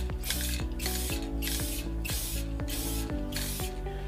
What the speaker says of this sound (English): So I'm gonna have to hold this one and spray